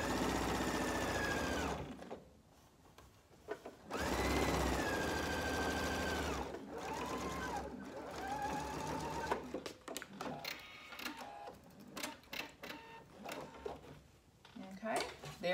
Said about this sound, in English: And I am stitching from the right side.